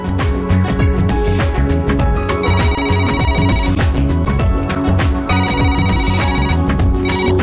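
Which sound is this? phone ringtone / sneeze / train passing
phone ringtone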